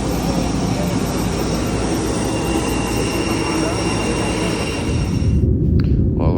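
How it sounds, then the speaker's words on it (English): An airplane revs on the runway just before takeoff, a loud, steady engine roar with broadband rumble that holds throughout, then cuts off abruptly near the end, with a hint of voice. "we're just about to take off on the runway"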